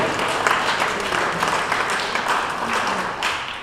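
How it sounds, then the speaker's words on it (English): Applause from a small group of residents at a mobile home estate following a sing-along, with uneven clapping swelling and ebbing in a room and faint voices underneath. "Give yourself a round of applause."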